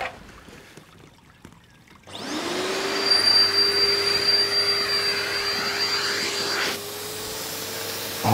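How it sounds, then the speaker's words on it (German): A Pondovac 5 pond vacuum with a brush attachment starts up after a quiet lead-in, then gives a loud, steady suction roar and whine that holds for several seconds before dipping slightly near the end. "und jetzt wird gesaugt."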